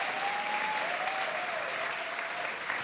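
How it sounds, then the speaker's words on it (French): Audience clapping at a French talk, a continuous, even roll of applause that sustains across the short clip with a faint tonal whistle underneath. "Alors vraiment, applaudissez-les pour de vrai, s'il vous plaît."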